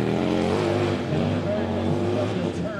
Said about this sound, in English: this motor is very deep in sound and very unique